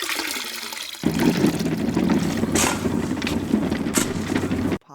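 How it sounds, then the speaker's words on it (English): Water poured into a trough to mix plaster for bricks, a steady splashing gush starting after a second of quiet and running loud and continuous until it cuts off near the end. "That's water being poured into a trough to mix the plaster that will hold the bricks together."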